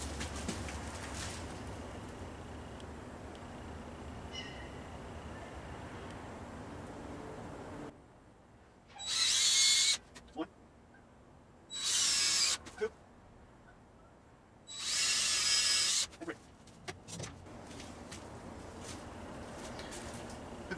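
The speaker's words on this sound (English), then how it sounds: "So we're just going to go ahead and just drill these 3 holes now." A drill bores three holes into a wooden dowel for a workbench quick-release front vise, with three loud bursts of a few seconds each separated by pauses, following a stretch of quieter background noise.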